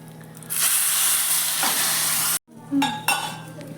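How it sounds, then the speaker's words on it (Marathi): Hot spice tempering hits buttermilk being brought to a boil, a loud bright sizzle that runs steadily, cuts off abruptly, then returns in shorter bursts with a few clinks. "छान अशी फोडणी आपण या ताकामध्ये टाकून घेतली"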